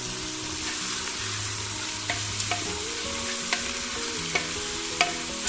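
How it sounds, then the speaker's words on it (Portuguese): Beans being stirred in a pan with browned fried onion and garlic, a steady close sizzle broken by a few sharp scrapes and clicks of the spoon against the pan. "agora eu vou acrescentar aqui o feijão. Agora eu vou mexer."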